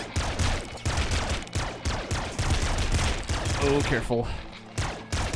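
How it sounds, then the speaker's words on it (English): Rapid gunfire from the top-down shooter Nuclear Throne, a dense stream of repeated shots and bursts over game music and effects, with a brief spoken exclamation partway through. "Shooting."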